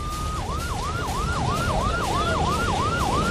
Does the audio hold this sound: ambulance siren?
yes